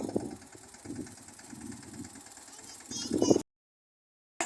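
A tractor engine rumbles low and steady while reversing in a peanut field, rising briefly in a louder surge before cutting off, with faint voices mixed in.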